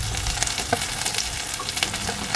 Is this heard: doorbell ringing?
no